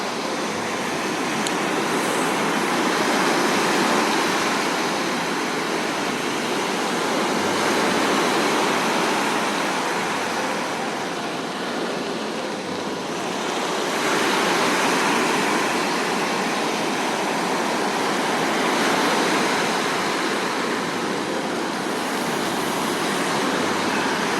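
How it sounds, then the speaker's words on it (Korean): Steady broadband wash of ocean waves mixed with falling rain on Gwangalli Beach, loud and continuous with gentle swells in intensity, no voices. "이렇게 파도 소리 듣고 이제 빗소리 들으면서 걸으니까"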